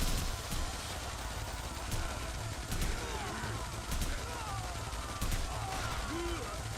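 Machine gun fire in the video game Yakuza Kiwami 2 comes as repeated short bursts of rattling shots, spaced about a second or so apart, over a constant dense game soundscape.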